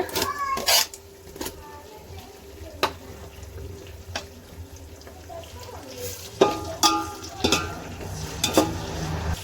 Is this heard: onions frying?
yes